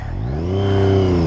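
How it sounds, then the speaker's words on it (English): A motorcycle with a full Akrapovic-style aftermarket exhaust revs up close and loud in one rising pull, its deep engine note climbing smoothly in pitch. "That full Kropovich exhaust sounding proper."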